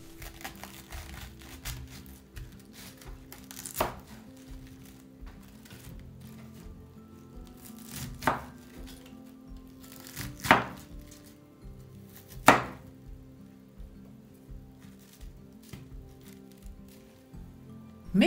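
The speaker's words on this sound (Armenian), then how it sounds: "Մեկ միջին չափի կաղամբը բաժանում ենք մասերի," A medium cabbage cut into pieces with a knife for pickling, several separate crisp chops spaced a few seconds apart over a quiet background with faint crinkling between strokes, no voices.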